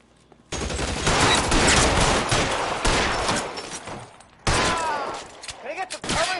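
Dense gunfire from the video game L.A. Noire, a sustained loud fusillade of overlapping shots running for several seconds, a brief drop, then another burst of rapid firing.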